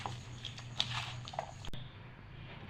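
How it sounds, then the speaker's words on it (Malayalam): Jackfruit-seed pakoda dough being kneaded by hand makes quiet, soft squishing and pressing sounds with a few small sticky pats, close and faint. "എന്നിട്ട് ഇത് നല്ലോണം കൈ കൊണ്ട് നന്നായിട്ടൊന്ന് കുഴച്ചെടുക്കുക"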